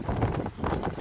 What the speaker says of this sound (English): just to show you how windy it is, it's quite windy.